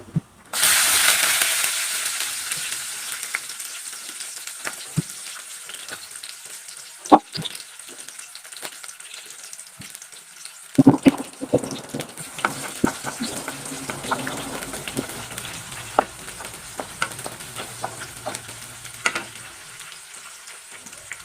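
Green chili, garlic and ginger fry in hot oil for a lemon pickle, making a loud hiss that starts at once and then settles into a continuous sizzle, with scattered clinks of stirring and no talking.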